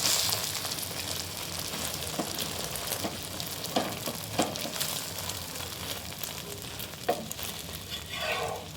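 A soft, steady sizzle of a paratha frying on a hot griddle, with occasional light taps and scrapes, close and continuous with no voices.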